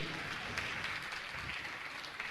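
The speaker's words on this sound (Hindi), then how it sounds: "मैं चाहूंगा सम्मान में जोरदार ताली बजाकर उनका सम्मान करें।" Audience applause at a religious gathering, a dense continuous wash of clapping that holds steady throughout, faint and distant.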